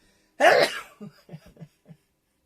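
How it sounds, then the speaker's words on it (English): A single sharp burst, close and loud, like a sneeze, followed by a few soft breathy sounds trailing off. "And I'm going to sneeze."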